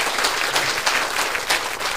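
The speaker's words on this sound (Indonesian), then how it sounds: "Tepuk tangan yang meriah buat Tuhan." Church congregation applauding at a worship service, dense steady clapping throughout, fairly close and full, with no talk over it.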